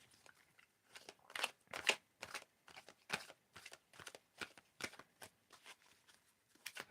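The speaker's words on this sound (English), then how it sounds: "Okay, for the final card, you can just tell me when to stop shuffling." A deck of playing cards being shuffled by hand, a quick train of about fifteen sharp riffling bursts at a steady, slightly uneven rhythm, close and fairly quiet, with no talking.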